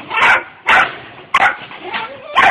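Puppy barking, about four short loud yappy barks close up with a whimpering whine between them.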